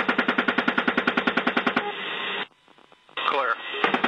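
Machine gun fire from a helicopter rattles out as a long, loud burst of rapid, evenly spaced shots, then cuts to crackling radio chatter with voices and a brief silent gap.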